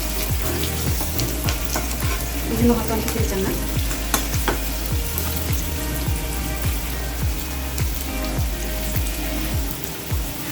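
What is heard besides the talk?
frying onions with salt for chicken gizzard curry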